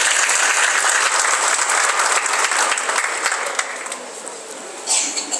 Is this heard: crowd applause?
yes